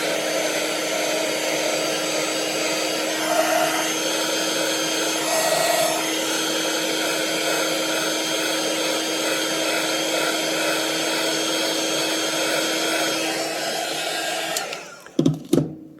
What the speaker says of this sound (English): make sure that you don't stop moving the heat gun across the sticker